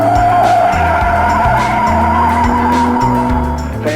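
Alfa Romeo race car at the Mille Miglia road race, tires skidding and squealing under a loud, close engine note with rhythmic gear or pulse changes across a few seconds.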